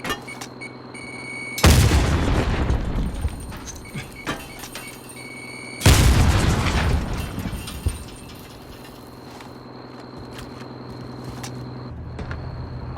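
Two loud, close Semtex blasts against a truck in Call of Duty: Warzone, each a sharp boom trailing into a long rumbling decay, with a quieter, steady hum between them.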